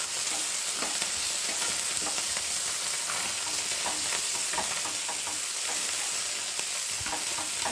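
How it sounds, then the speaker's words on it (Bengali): Fish fried in hot oil in a pan for a fish curry with eggplant and potato: a dense, steady sizzle throughout, broken by frequent soft scraping and clicks of stirring, close and loud with no talk. "দেখো মাছগুলো ভাজি দিয়েছে আর এখন এতটা হয়েছে, মাছগুলো ভাজা হোক।"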